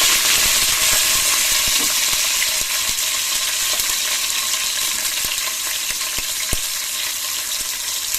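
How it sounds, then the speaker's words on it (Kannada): Chopped capsicum fries in oil in a pan with a loud, constant, close sizzle, broken by occasional sharp taps and scrapes of a stirring utensil, and there is no talking. "ಈ ದಪ್ಪ ಮೆಣಸಿಕಾಯಿ ಒಂದು ಸ್ವಲ್ಪ ಎಣ್ಣೆಯಲ್ಲಿ ಫ್ರೈ ಆಗಲಿ"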